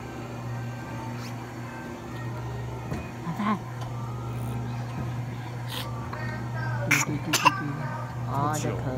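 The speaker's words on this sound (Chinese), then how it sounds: "咳嗽， 那咳嗽也不知道是鼻涕倒流" A few short, sharp coughs break out amid ongoing talk, heard close and indoors over a faint steady background hum.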